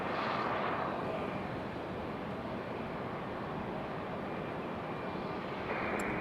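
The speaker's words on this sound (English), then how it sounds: "Got another Delta out at the end of the runway there." A Delta airliner at the end of the runway at Raleigh-Durham International airport gives a broad, steady jet engine rumble and roar heard from a distance, with no talking.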